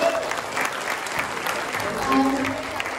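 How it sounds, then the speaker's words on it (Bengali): An audience at a Rabindra dance and song stage performance breaks into loud, dense clapping that lasts for the whole moment, with a voice speaking over it. "সম্রাটের জন্য একটা জোরে হাততালি হোক।"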